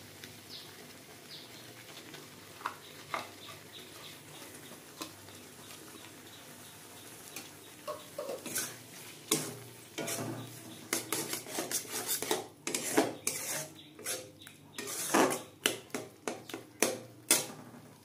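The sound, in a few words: stirring chhana in a pan for mango sandesh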